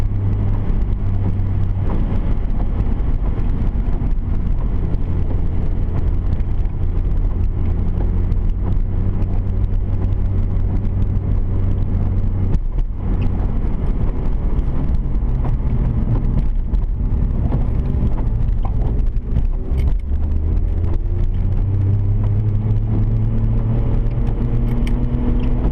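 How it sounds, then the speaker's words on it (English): A 1993 Nissan Skyline R33 GTS25T on a standalone ECU drives steadily, its engine drone and road rumble loud and constant from inside the cabin, with some wind noise and shifts in engine pitch. "now we're just gonna drive for a little bit"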